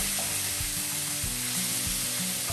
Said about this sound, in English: We got some sizzle going on.